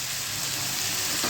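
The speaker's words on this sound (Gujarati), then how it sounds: "તમે ખાલી રાઈ મૂકશો ને તો તમે એનો વઘાર જોજો કેવો આવે છે." Mustard seeds sizzle in hot oil for a Gujarati tempering, giving a steady, dense, close crackle with no talk.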